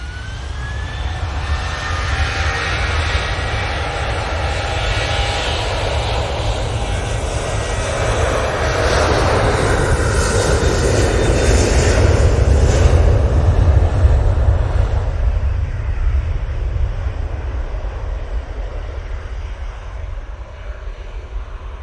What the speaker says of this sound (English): Ryanair, lined up, ready to go